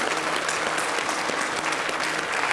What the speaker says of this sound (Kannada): ಜೋರ್ ಚಪ್ಪಾಳೆ ಶಾಲಿನಿ ಅವರಿಗೆ